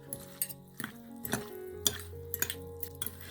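Utensils clink and scrape against a bowl as a zucchini salad is stirred together with mayonnaise, garlic and French mustard, with sharp irregular knocks over a soft mixing rustle, close and fairly quiet.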